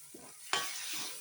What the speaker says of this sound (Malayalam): ഇനി നമ്മൾ ഈ അരച്ചുകൊണ്ട് വന്നിരിക്കുന്ന മസാല ഇതിലേക്ക് ഒഴിച്ച് കൊടുക്കണം.